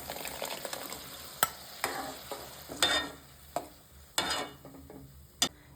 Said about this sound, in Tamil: இது தேங்காவை சேர்த்த உடனே நம்ம இப்படி கிண்டிகிட்டே இருக்கணுங்க